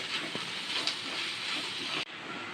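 Ginger and turmeric with onion fry in a pan, giving a steady broad hiss that cuts off sharply near the end, faint and close.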